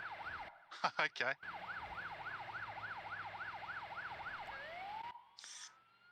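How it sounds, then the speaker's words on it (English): An emergency vehicle siren in a video game roleplay sweeps in a steady rising-and-falling wail on the flex muscle 2 tone, cut in after a brief burst of other tones, then sliding upward and cutting off, with a short spoken word heard. "that was me changing the siren to flex muscle 2"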